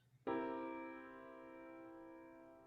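Major chord with an added minor seventh, a dominant seventh, struck once and sustained as an ear-training example, its stacked harmonic tones ringing steadily and slowly decaying alone after a faint noise.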